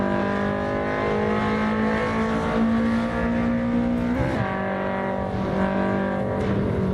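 Loud, sustained BMW M3 engine drone from a video game, with a strong harmonic whine, pitch holding high and shifting slightly as it revs, close and continuous.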